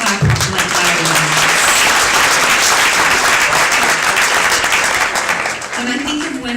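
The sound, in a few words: audience clapping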